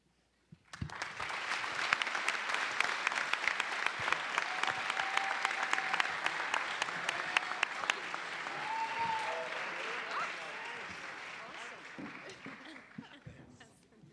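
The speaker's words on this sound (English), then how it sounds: "Let's give another round of applause to all the teams." An audience applauds the teams at a venture challenge finale, a dense steady round of clapping starting abruptly and continuing for the length, with a little laughter and faint voices mixed in before it thins toward the end.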